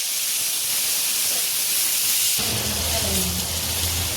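Garlic tempering in hot oil for momo chutney, a loud continuous hissing sizzle that shifts partway through as more goes into the pan, with a voice speaking over it.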